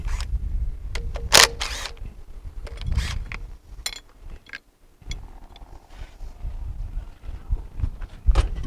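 A wrench working bolts loose on a Briggs twin engine of a Murray riding mower during a starter job, with intermittent metallic clicks and ratcheting clanks up close amid handling noise.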